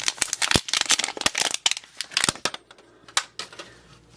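A plastic wrapper on a Zuru Mini Brands capsule ball crinkles and crackles loudly as it is torn open, in quick uneven bursts up close.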